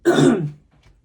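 One short, harsh cough or throat-clear, close and loud, then near silence.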